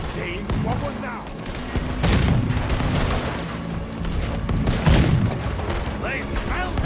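Gunfire in Red Dead Redemption 2 during a chapter 5 shootout: repeated loud shots and booming bursts, some near and some farther off, with game voices shouting between them.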